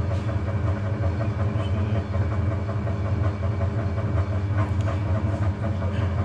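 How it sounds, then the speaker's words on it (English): A fly cutter on a milling machine takes a light climb cut of a thou or two across the workpiece, giving a steady, loud, continuous rumbling drone with no talking. "I'm just going to do a climb cut about a thou or two just to give that a nice edge"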